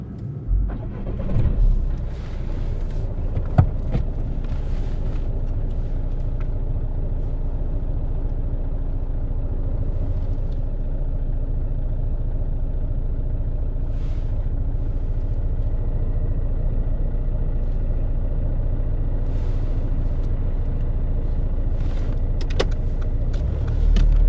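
A car pulls away on a UK driving test, with a steady close engine rumble and road noise inside the cabin plus a few light clicks and knocks, and no talk.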